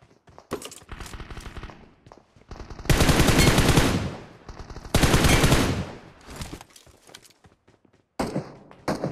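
Bursts of automatic gunfire in the mobile battle royale game PUBG Mobile, with several loud sustained volleys separated by shorter scattered shots and quieter gaps, close and intense.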